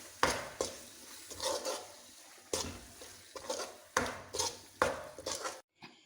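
A spoon stirs a thick date and raisin chutney with a spoonful of organic sugar in a pan, giving repeated scraping clinks against the metal in short irregular bursts.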